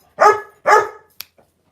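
A dog gives two sharp, close barks in quick succession, followed by a brief faint click, with no one speaking.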